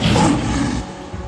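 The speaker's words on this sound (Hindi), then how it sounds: "आपकी दहाड़ सुनकर हमें अपने दोस्त लिटिल सिंघम की याद आ गई" A cartoon lion lets out a loud, sustained roar lasting just over a second, rough and full-bodied, fading slightly toward the end with no talking over it.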